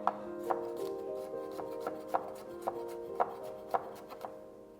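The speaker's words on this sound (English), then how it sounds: "2 pieces of garlic, finely chopped." A knife chops garlic finely on a cutting board in a steady series of sharp, evenly spaced taps, close and clear over a quiet kitchen background, with no talking.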